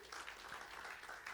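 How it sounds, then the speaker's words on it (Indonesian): A church congregation claps together for God at a service, steady dense applause filling the room from start to finish without any pause. "Tepuk tangan buat Tuhan."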